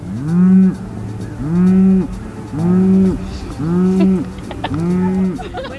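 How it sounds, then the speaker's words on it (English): A cow moos loudly five times in a steady rhythm, each low call rising and holding, close by. "Did you provoke the cow?"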